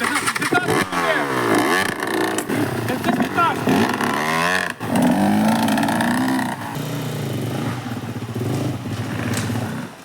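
Enduro motorcycle engine revs and drones through a ride, its pitch rising and falling with the throttle, close and loud, under voices and laughter shouting encouragement over it.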